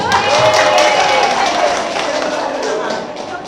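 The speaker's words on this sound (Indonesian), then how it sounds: "Tepuk tangan deh ya tuh" An audience at a village head election event claps loudly and continuously, a dense wash of applause from a crowd that holds steady for a few seconds before easing slightly.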